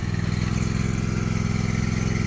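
Tractor engine running steadily as the PTO is engaged while clearing ground in a hay field, a loud, continuous low mechanical drone with a slight rhythmic clatter throughout.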